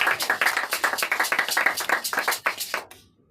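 A church congregation claps rapidly and steadily for about three seconds in praise of the King of Kings, dense and close, then stops abruptly.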